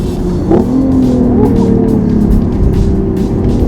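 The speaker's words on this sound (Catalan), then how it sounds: "Ara anem en mode esport i estem traient tot el suc del benzina." A BMW i8 sports car in sport mode pulls hard with a loud, steady engine drone and rising tones, a brief squeal near the start, close and continuous.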